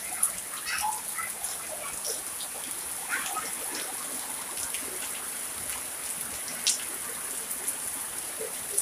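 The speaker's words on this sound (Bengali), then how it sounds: "কালকে রাত্রে থেকে বৃষ্টি হইতেছে।" Rain that has fallen since the night before patters across a rural yard with hibiscus and henna plants. A continuous soft hiss is scattered with light drip ticks, steady and fairly quiet for the whole stretch.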